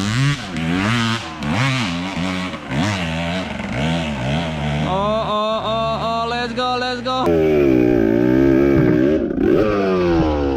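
Loud two-stroke KTM EXC dirt bike exhaust revving hard, rising and falling in pitch through repeated throttle blips and gear changes, close and continuous, with a brief spoken exclamation.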